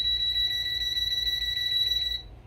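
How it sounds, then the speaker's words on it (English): A voltage detector held to a live electrical wire gives a continuous high electronic beep, loud and close, with a low hum beneath, stopping abruptly near the end. "And just to show you how it beeps on a live wire,"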